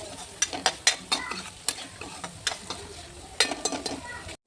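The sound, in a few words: tomato mixture cooking in a pan on the gas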